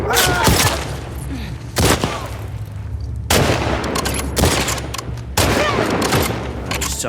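Gunfire in The Last of Us Part II, a string of loud, sharp gunshots and booming bursts at irregular intervals with rumbling echoes, close and dominant, with a player talking in places.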